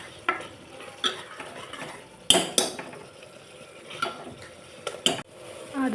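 Chicken curry seasoned with turmeric and garam masala is stirred in a pot, giving repeated spoon scrapes and clinks against the metal over a quiet, soft sizzle.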